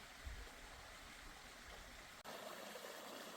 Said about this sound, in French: Un petit ruisseau qui coule juste à côté